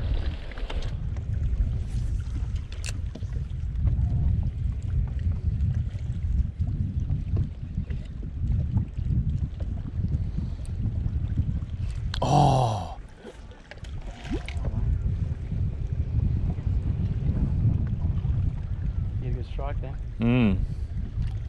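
Low, steady wind rumble buffets the microphone on a small boat while fishing for bream around natural structure, with brief voices and a short burst of talk.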